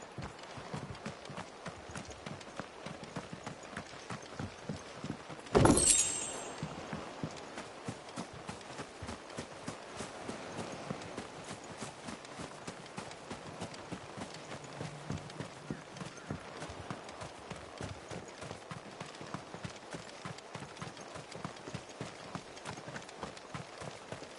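Hooves of a horse galloping in Final Fantasy XVI, a quick, steady clip-clop rhythm running close and clear for the whole stretch, with one sharp burst of noise near the start.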